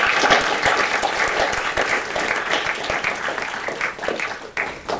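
An audience at a panel discussion gives a warm round of applause, dense clapping throughout that fades slightly at the end.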